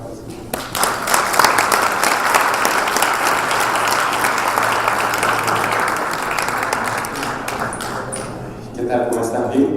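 A crowd at a live talk event in Guanajuato bursts into loud, sustained applause and cheering that fills nearly ten seconds, swelling early and holding strong before tapering at the end.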